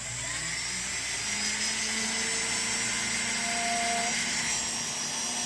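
A rotary tool fitted with a burr grinds a bracelet ID nameplate, a loud steady high-pitched whine that holds constant throughout, close up with no talking.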